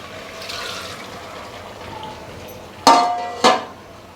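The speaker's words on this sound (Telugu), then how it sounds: "ఈ నీళ్ళు కూడా పోసేద్దాం." Water is poured into a pot of Ankapur chicken curry: two short, loud splashing pours in quick succession after a quiet stretch of low background noise.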